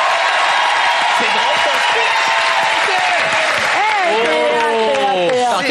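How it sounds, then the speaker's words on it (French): A studio audience applauds Stéphane Rousseau on a television show set: sustained, dense clapping throughout, with tonal sounds rising near the end. "on applaudit Stéphane Rousseau, mesdames et messieurs"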